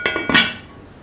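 A lid is set onto a cooking pot of simmering coconut-milk gravy with salted fish, giving two or three quick metallic clinks close by, followed by a short fading ring, with no talk.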